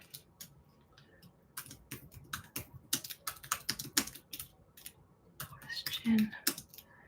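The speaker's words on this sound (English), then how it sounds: "We're gonna type." Typing on a computer keyboard: uneven bursts of sharp key clicks close by, quiet between strokes, with faint soft voice near the end.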